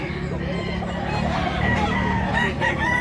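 A rooster, a prized fighting cock offered for sale, crows amid a busy yard, its call rising over steady background noise and overlapping voices.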